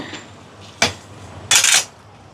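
A utensil scrapes and knocks against a pot while rice is mixed, two distinct clattering strokes standing out close and clear from a quiet kitchen background.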